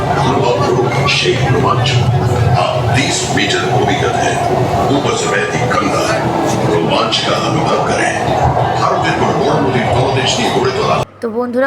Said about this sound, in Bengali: গঙ্গার নিচ থেকে মেট্রো যাবে গাইস দেখো